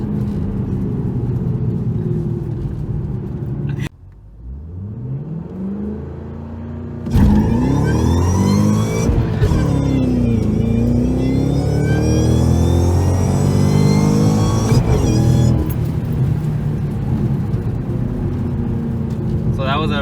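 A Shelby GT500 Mustang fitted with Weld wheels and drag radials accelerates hard through the gears, loud engine roaring and climbing in pitch with a brief drop at a shift, while people talk inside the car.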